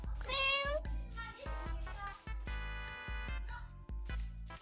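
A cat meows repeatedly in the Minecraft video game, several rising mews with a rhythmic thudding beat and game sounds beneath.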